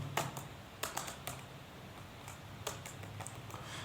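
Computer keyboard keys are typed in short, irregular bursts of quiet clicks with brief pauses between strokes, heard close up against a faint background hiss.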